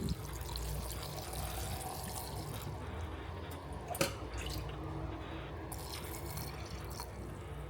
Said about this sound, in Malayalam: ഇനി നമുക്ക് വെള്ളം ഒഴിച്ച് കൊടുക്കാവേ